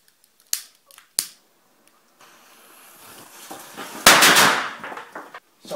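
Two sharp firecracker pops ring out close by, then a few seconds later a long crackling burst of rapid explosions from a string of firecrackers, loud and near.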